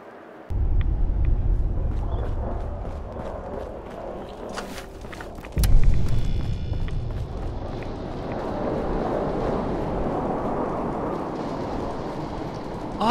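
A radiation storm rumbles through the wasteland in Fallout 4, a steady low roar of wind and thunder-like rumble with a heavy swell near the start and another surge midway, no voices.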